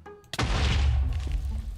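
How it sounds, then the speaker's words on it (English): A single deep boom bursts out in modded Minecraft, a sharp onset followed by a sustained low rumble that rolls on and slowly fades, loud and close with no talk over it. "we're just testing explosions, man"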